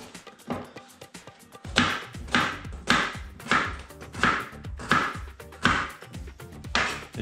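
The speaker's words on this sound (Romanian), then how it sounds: "Am început cu ceapa." Onion being chopped with a knife on a board, a regular series of about nine crisp, close chops at an even rhythm.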